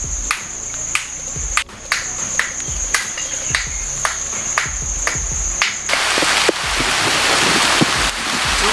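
Rain falls in a monsoon forest, with scattered drops pattering near a campfire attempt and crickets chirping in a regular pulse, the shower growing denser and louder toward the end; no one speaks.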